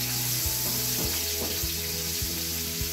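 Sliced onion sizzling lightly in a hot pan for a Bengali vegetable dish, a steady hiss of frying oil with soft periodic scrapes as it is stirred.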